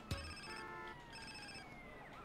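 A mobile phone rings inside the video game GTA San Andreas, a steady repeating electronic ringtone melody that plays loud and alone, with no talking over it.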